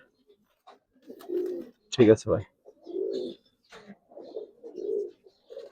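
Giribaz pigeons coo softly in a series of low, throaty calls spaced across the moment, close by, with a brief loud burst from someone speaking in between.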